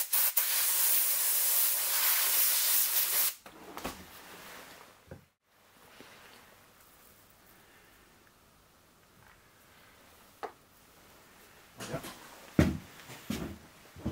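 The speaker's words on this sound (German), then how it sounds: "die Schrauben werden jetzt erstmal alle entfettet" Degreaser is sprayed onto screws from a Yamaha XT600 engine during assembly, first as a steady, close hiss lasting about three seconds, then quiet handling noises and a few short bumps and clicks.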